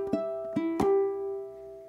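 Ukulele playing bar 2 of a song, three plucked notes struck in quick succession, the last ringing out with a sustained tone, close and clear with no talking.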